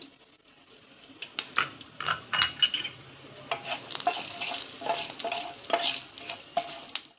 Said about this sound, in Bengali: এবার জিরে আর গরম মশলাগুলো দিয়ে দিলাম, লবঙ্গ, এলাচ, দারচিনি